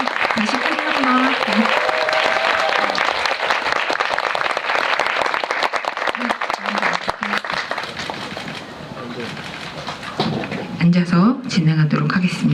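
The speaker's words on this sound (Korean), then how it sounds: "박수를 다시 크게 한번" A hall full of people at a film screening talk keeps up loud, continuous applause for the cast and director, thinning slightly before a voice speaks over the last stretch.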